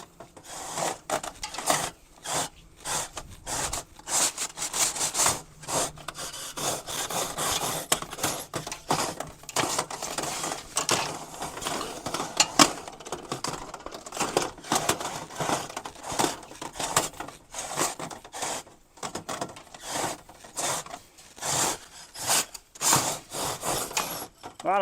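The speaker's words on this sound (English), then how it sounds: "Sometimes you can take the fiberglass pole and pull it up and down, kind of ream it out there a little bit." A fiberglass pole scrapes and rattles up and down inside a stainless steel chimney liner, a continuous rough scraping and knocking in irregular pulses, close and steady throughout, with no talking.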